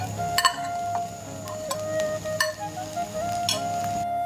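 Grated paneer being stirred and mixed in a frying pan, with a steady sizzle broken by scraping strokes and light metallic clinks of the spoon against the pan, close and fairly loud with no talking.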